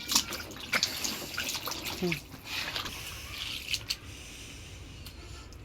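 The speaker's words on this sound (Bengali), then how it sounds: "ফুলকপি ধুইতেছি" Tap water runs while cauliflower is washed in a kitchen sink, a steady light splash with occasional drips and knocks, moderately close and fairly quiet throughout.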